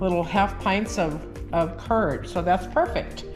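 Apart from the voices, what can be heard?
No everyday noise stands out behind the speech.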